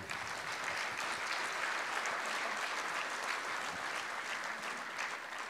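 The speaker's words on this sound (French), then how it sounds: "Oui, vous pouvez applaudir." Applause from a conference audience greets the opening, a steady dense wash of many hands clapping at once, fairly loud and continuous throughout with no voices over it.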